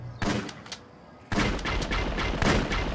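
Shotgun blasts in the game Tomb Raider Chronicles: a sharp close shot, then a second loud blast that runs into a dense stretch of noisy, booming combat lasting to the end.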